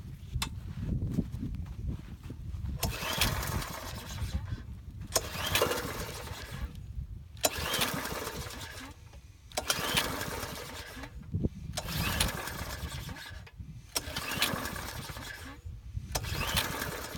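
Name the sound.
MTD Yard Machine lawn mower engine trying to start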